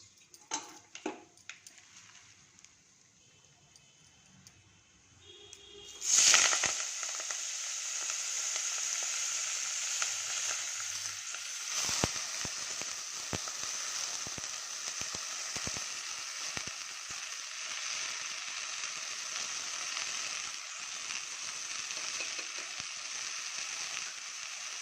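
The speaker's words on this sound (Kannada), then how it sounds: "ಇದನ್ನು ಸ್ವಲ್ಪ ಫ್ರೈ ಮಾಡ್ಕೊಳ್ಳೋಣ ಇವಾಗ ಚೆನ್ನಾಗಿ." Fenugreek leaves frying with sweetcorn, field beans and peas in a pan: after a few seconds of quiet clinks, a loud steady sizzle starts suddenly and continues evenly throughout, with no speech.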